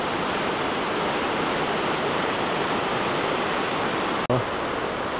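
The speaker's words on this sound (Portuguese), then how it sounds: "E chegamos aqui na lateral da cachoeira" Los Alerces waterfall near Bariloche in Patagonia, heard from beside the falls as a steady, loud, unbroken roar of rushing water, with one brief sharp click near the end.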